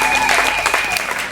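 A church congregation claps together in a steady, close wash of applause that fills the short moment without pause.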